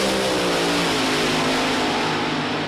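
Kathy Fisher's Top Dragster roars down the drag strip at an NHRA Division 3 race in Norwalk in 2016, a loud, sustained engine howl at full throttle that fills the whole moment without letup.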